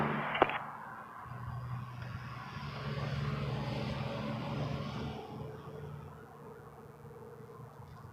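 An airliner on runway 23 at Toronto Pearson Airport, a broad engine roar that swells and fades over several seconds after a brief sharp click at the start, heard from a distance with no voices.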